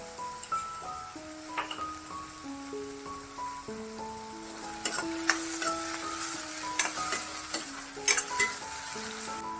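Onion sautés in a pan with a pinch of salt, a soft frying crackle under faint tonal notes, with a few sharper scraping stirs toward the end and no speech.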